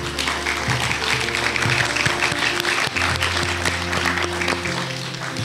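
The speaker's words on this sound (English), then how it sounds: "Could we please give them another round of applause?" Sustained round of audience applause at a community storytelling event in Cook County, dense continuous clapping from a crowd filling the whole stretch at a steady level.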